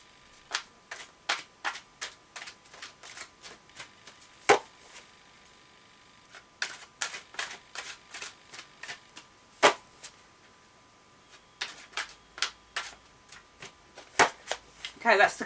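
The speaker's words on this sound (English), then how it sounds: "I'm going to shuffle these, and I'm going to draw one from the top of the deck" A deck of oracle cards being shuffled by hand for a reading, giving a dense run of crisp riffling flutters and soft slaps in quick bursts, close and clear with short pauses between rounds.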